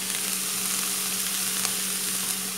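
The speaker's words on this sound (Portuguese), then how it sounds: "Ela já começa a fazer aquele barulhinho de fritura," Chopped parsley and green onion fry in a pan, a dense, steady crackling sizzle, close and fairly loud, with no talking.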